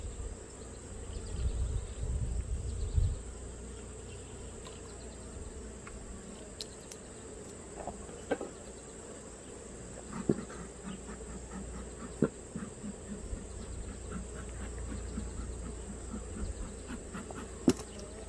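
Steady insect buzzing fills the air, a continuous drone of many Italian honeybees around an open Langstroth hive, with occasional sharper clicks and knocks nearby.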